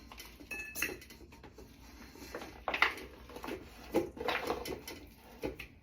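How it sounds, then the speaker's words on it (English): Leftover sweet potatoes with their topping are dumped into a bowl in a home kitchen, giving a quiet run of soft thuds, scrapes and clinks of utensil against dish, irregular and close. "So I'm going to dump in my sweet potatoes"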